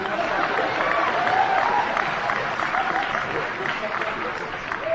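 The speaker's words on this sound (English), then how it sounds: "And then people start applauding." An audience applauding during a speech, steady clapping from a crowd heard throughout at moderate level, with a voice talking over it.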